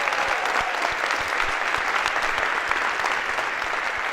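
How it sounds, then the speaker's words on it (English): A large audience in a Harvard CS50 computer science lecture hall breaks into dense, continuous applause, loud and full, with no pauses and no voices over it. "Maybe a round of applause for..."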